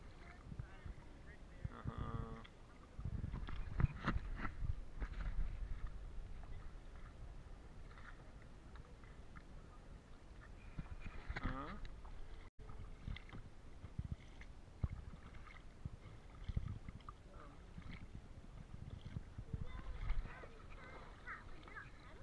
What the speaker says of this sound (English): Oh yeah, I'm paddling.